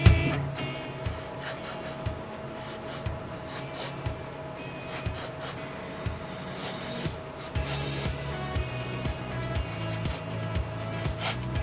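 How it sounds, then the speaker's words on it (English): Aerosol cleaner sprays in short, repeated hissing bursts into the trigger mechanism of a black Franchi Affinity 3 shotgun, with soft handling clatter between the bursts and no voices. "We're just spraying the trigger mechanism and everything in there."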